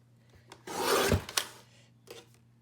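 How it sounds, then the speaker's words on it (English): Paper trimmer blade drawn across cardstock, one quiet rasping slide lasting under a second, followed by a couple of faint clicks and taps at close range. "Why is my trimmer not cutting straight?"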